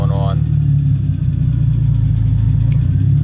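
A 1985 BMW E30 with a turbo engine, running without an idle control valve, idles with a loud, steady, low rumbling drone that holds even and close throughout.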